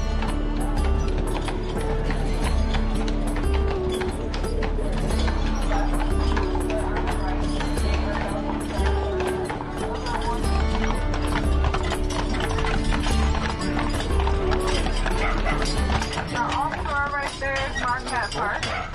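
Horse hooves clip-clopping along a street on Mackinac Island, a steady rhythmic trot with rattling carriage wheels beneath, while a person talks over it throughout.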